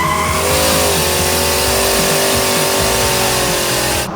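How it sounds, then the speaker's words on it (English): A car doing a burnout with Mountain Dew in place of coolant, tires squealing loudly under a steady high engine roar that holds for about four seconds before cutting off abruptly. "Mountain Dew coolant burnout"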